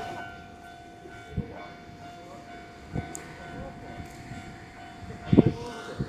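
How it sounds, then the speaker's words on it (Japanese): A local stopping train pulls into platform 4 at a station during the morning rush, a low steady rumble of wheels and rails with a few soft knocks and a brief louder clatter near the end, no speech over it. "4番線に列車がやってくるようです。"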